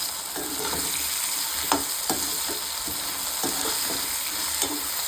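Raw banana pieces and onion sautéing in a hot pan, a steady close sizzle with repeated scraping stirs of a spatula at an uneven rhythm, no talking.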